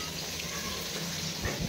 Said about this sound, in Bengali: আর এখানে কুমড়ো ভাজা হচ্ছে।